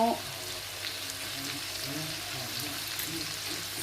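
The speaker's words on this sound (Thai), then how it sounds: "พริกที่เราตำไว้อ่ะลงไปผัดเลยโอ้น้ำมันออกเยิ้มเลย" Pounded Thai chili curry paste stir-fries in oil over medium to low heat in a pan for a lemongrass pork rib dish, giving a soft, steady sizzle with light scraping stirs throughout.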